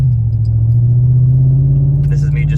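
GMC/Chevy Sierra/Silverado pickup engine in sport throttle mode, a loud steady low rumble held close throughout with a slight rise in pitch, brief voice-like sounds near the end.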